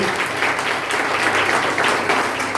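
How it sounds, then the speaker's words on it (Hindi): A congregation at a Sunday church service claps loudly and continuously, a dense, even wash of many hands with no pauses. "बहुत जोरदार ताली बजाएं तुरती के लिए।"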